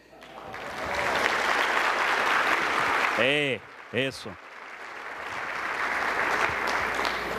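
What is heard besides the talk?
audience applause after a conference talk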